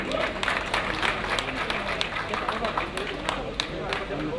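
Crowd applause for the director general at the inauguration of the Tilène market in Ziguinchor, steady clapping from a gathered audience, moderate and continuous, with murmuring voices mixed in.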